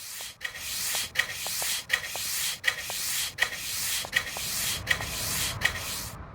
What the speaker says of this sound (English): just your broom scraping noise in this game